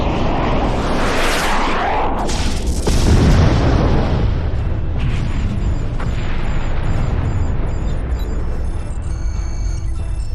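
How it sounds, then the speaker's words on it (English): A Star Trek parody effect of photon torpedoes firing and exploding: loud rushing booms and bursts swelling over several seconds, followed by a rumbling, crackling tail and faint electronic beeping, with no talking. "Fire photon torpedoes."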